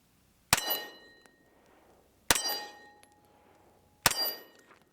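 Three Canik Elite Combat pistol rounds strike a steel target, and each impact rings out as a sharp, distant metallic clang. The clangs come about two seconds apart, and each ring decays briefly in an otherwise quiet setting.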